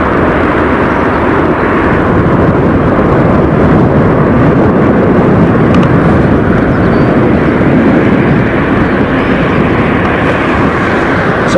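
A Boeing 777 arrives on runway 27R at London Heathrow with a loud, steady, broad jet roar that stays close and constant throughout, with no voices over it.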